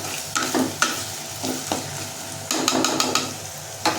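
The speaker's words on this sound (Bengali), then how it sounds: "এবার এটাকে ভালো করে নাড়াচাড়া করে নেব।" Vegetables for vegetarian polao are stirred in a hot pan over raised heat, giving a steady sizzle broken by repeated scraping strokes of a spoon against the pan.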